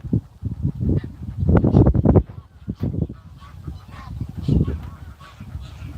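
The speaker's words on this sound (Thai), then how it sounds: "มีนกมีห่าน มีวัวมีเป็ด" Geese on a farm with ducks and cows around, a loud burst of close, repeated honking that fades into scattered quieter calls.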